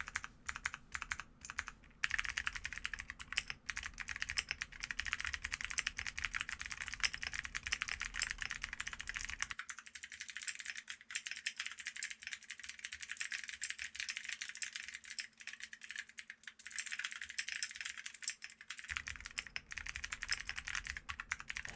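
Continuous typing on a Kiiboom Moonlight 81 mechanical keyboard fitted with 1.5mm Poron foam dampening, steady and fairly muted, with a brief moment where the background hum drops out. No voices.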